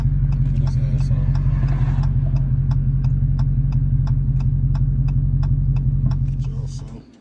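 A Dodge Hellcat V8 with the muffler deleted but the resonator kept idles loud and close, a deep, steady, throbbing rumble that fades and cuts off at the end.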